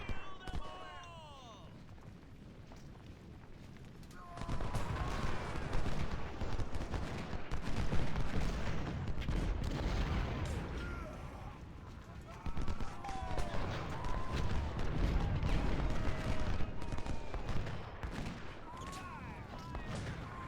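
Artillery and rifle volleys roll through an Ultimate General battle, a continuous crackling and booming fusillade that swells after a quieter opening, with a voice talking over it.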